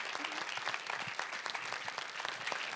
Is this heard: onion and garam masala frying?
no